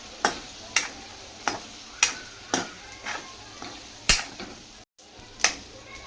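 A spoon stirs pasta through tomato garlic sauce in a pan, giving a rhythmic series of distinct scraping taps about every half second over a low background, close and moderately quiet.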